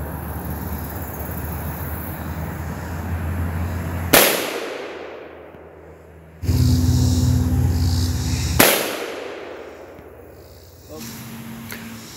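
Two sharp, loud gunshots from a 10-inch Freedom Arms revolver firing heavy cast 405-grain round flat nose 45 Colt rounds at a range, each blast decaying quickly, with a steady background rumble between shots.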